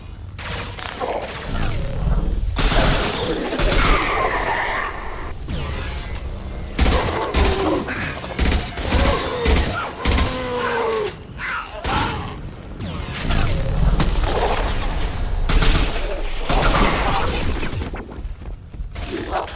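Heavy weapon firing in Mass Effect 2, Legendary Edition with mods: repeated loud blasts and crashing impacts, some in quick bursts, with shattering debris and mechanical noise between them, close and forceful.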